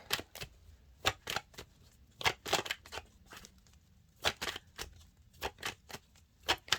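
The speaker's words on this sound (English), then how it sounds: "I'm going to go quiet because they're still shuffling" Playing cards shuffled in quick riffling bursts, crisp repeated flutters in clusters with short pauses between, close and fairly quiet with no talk.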